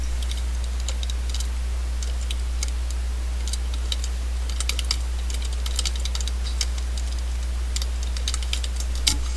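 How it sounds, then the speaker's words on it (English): Typing on a computer keyboard while entering quiz questions, light irregular clicks and taps in bursts over a steady low electrical hum, close and fairly soft, with no voices. "We're going to type in the first question."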